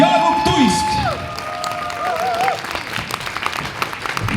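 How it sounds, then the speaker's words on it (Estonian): A fan-day audience applauds the Romeo and Juliet actors with steady clapping and some cheering, while a voice talks over it and the sound swells toward the end. "Teeme suure aplausi Romeo ja Juliale, Vanda Helene Ollep ja Jaagup Tuisk."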